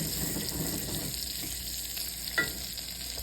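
Butter melts with a soft, steady sizzle on a hot Blackstone griddle outdoors while a whisk scrapes and stirs it, with one brief sharper metallic tick partway through.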